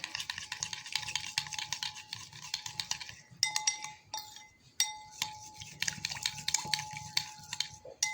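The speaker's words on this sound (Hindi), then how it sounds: "इसको अच्छी तरह से अब हमने मिक्स करना है।" A spoon stirs ajwain and kalonji seeds into homemade hair oil, giving continuous close scraping and clinking against the container with a steady rhythm, briefly pausing midway.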